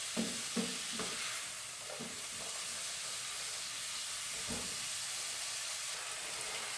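Onion fries in oil with a continuous hissing sizzle, a few soft stirring knocks near the start and then an even, unbroken fry.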